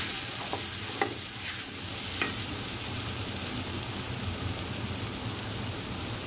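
Two tablespoons of butter melting and sizzling in a soup pot with crushed garlic over lowered heat, a dense, continuous crackling hiss held steady throughout, punctuated by a few faint utensil taps, close and unbroken.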